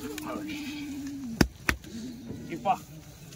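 Kathiawadi goats at a livestock sale give a long wavering bleat, followed by sharp knocks and a second, shorter bleat, with a noisy outdoor background.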